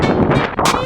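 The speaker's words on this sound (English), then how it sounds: "the wind's really picked up" Strong wind buffets the microphone in a short, loud rumbling burst with a gusty rush.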